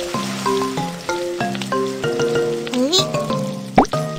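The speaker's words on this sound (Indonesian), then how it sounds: "ayo kita mulai menggoreng telur" Eggs sizzling in hot oil in a Baby Bus cooking video game, a steady frying hiss under a cheerful melodic jingle and a bright chirping voice.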